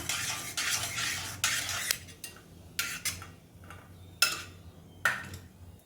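Cashews roasting in a pan for Thiruvathirai kali made in a cooker, with bursts of scraping and clinking as a spoon stirs them, a faint sizzle underneath and short gaps between strokes.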